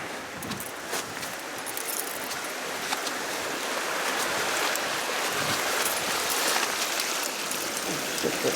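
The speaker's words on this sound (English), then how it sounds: "Let's get away from the creek there, it's quite noisy." Water rushes steadily over rocks in a New Zealand creek, a constant broad hiss and babble with no pauses and no voices.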